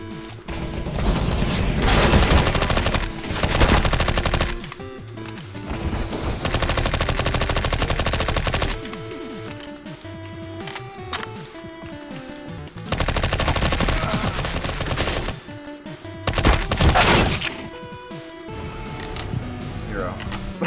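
MP5 submachine gun fired in CS:GO, bursts of rapid automatic fire in several long stretches with short pauses between, loud and close, with game music and a voice talking underneath.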